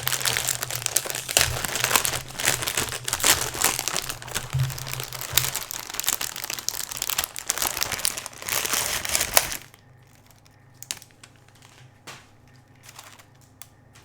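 Plastic packaging of Kroger unicorn cookies crinkled and handled close up, a loud, dense, continuous rustling that stops abruptly partway, leaving a quiet room with a few soft taps.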